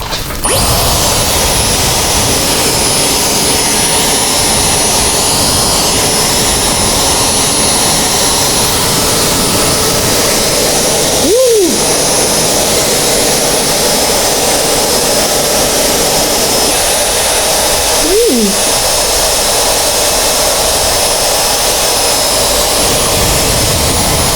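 A loud, steady Dyson AirWrap hair dryer whooshes continuously up close while curling hair, with two brief pitch dips as the airflow shifts.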